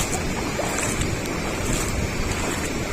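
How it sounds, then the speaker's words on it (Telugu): Heavy river water rushes beneath a bridge, a dense continuous roar with some wind buffeting the microphone, steady throughout and without talk. "సో మొత్తానికి భారీగా వస్తున్నాయి వాటర్"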